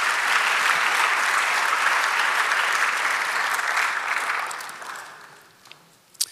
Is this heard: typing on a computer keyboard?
no